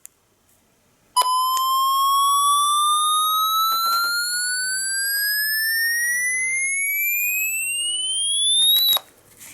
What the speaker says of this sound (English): the siren on this thing is annoying